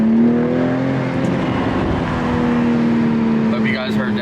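A Toyota MKV Supra accelerates hard on a country road, heard from inside with the windows down: a loud engine drone rising steadily in pitch under wind and road noise.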